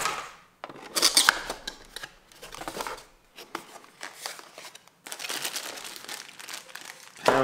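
New camera packaging is unwrapped close up, with bursts of crisp plastic and paper crinkling separated by short quiet gaps, loudest near the start and toward the end.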